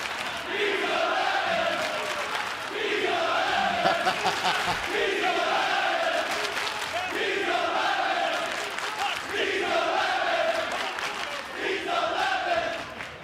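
Wrestling arena crowd at an NXT event roaring and chanting loudly in rhythmic waves that swell and repeat, with no talk over it.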